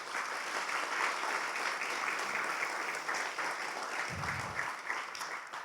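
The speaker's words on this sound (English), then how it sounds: "please, round of applause to Fringe Commons and Trades Hall" An audience claps steadily for several seconds at an urban planning talk at Trades Hall, a continuous wash of hands that stays fairly even, fairly distant and without speech, before thinning slightly near the end.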